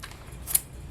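A single quick snip of scissors cutting through black gingham ribbon, close and crisp, rising briefly above a quiet room.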